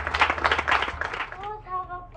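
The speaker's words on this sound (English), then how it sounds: "Let's give them a round of applause." Brief clapping from a graduation audience at a school in Kisumu, Kenya, quick and scattered for about a second, then fading as a voice speaks over the tail end.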